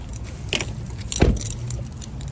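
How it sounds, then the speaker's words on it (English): Keys jangle in short metallic bursts while a car is locked, followed by a single low thud of the car, all close and brief. "First step, lock your car."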